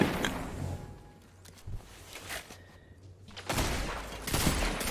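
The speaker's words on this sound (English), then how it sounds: "Dude, what is that nade?" A grenade blast in Destiny bursts out amid sporadic gunfire and footsteps during a match, with a dense, loud explosive wash near the end following quieter, scattered shots.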